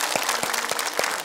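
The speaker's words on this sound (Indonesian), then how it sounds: "Tepuk tangan dong." Audience applause at a stage show, a steady wash of clapping from a crowd with a few louder claps standing out, brief and fairly close.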